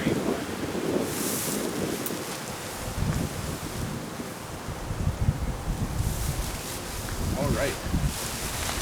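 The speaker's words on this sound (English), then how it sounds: "we're about to get some good wind that helps stretch the top" Gusty wind buffets an REI Quarter Dome SL2 tent outdoors, a steady broadband rush with rising and falling surges and fabric flutter, fairly close, while a person talks quietly underneath.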